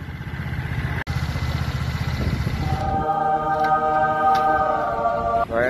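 A motorcycle engine idles with a steady low rumble and clatter, then a second, higher-pitched engine drone joins in partway through, both close and fairly loud at a market in Kapatagan.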